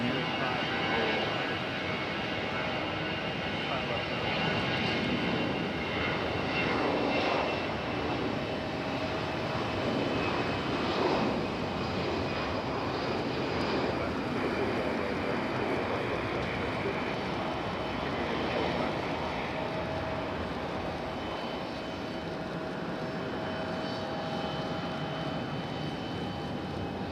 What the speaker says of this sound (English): Good sounding departure for our A319 right here.